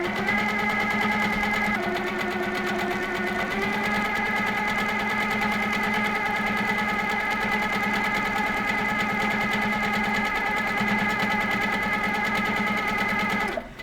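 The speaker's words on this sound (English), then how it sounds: "So now I just make sure I do a couple of stitches on the spot" A quilting sewing machine stitches steadily for microquilting, a loud continuous mechanical whir with strong steady tones that shift in pitch a few times as the speed changes, then stops abruptly at the end.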